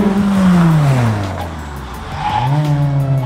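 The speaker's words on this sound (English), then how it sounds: "That is some heavy braking." A drift car powered by a small K-series engine brakes hard during Formula Drift qualifying at Irwindale, its engine note sweeping downward as the car slows, then rising again, with tire squeal. The sound is loud and close, with no talk over it.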